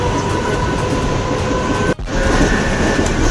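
Inside a moving Mumbai local train, a steady, loud rumble of wheels and carriage noise runs throughout, with a brief dip near the middle and no talking.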